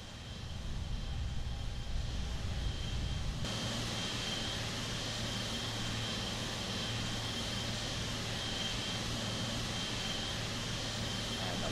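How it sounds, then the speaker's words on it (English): Jet engine drone from a plane on approach in the Roblox game Aeronautica as the landing gear is lowered, with a steady loud whine that shifts to a deeper rumble partway through and then holds evenly. "Let's lower the landing gears"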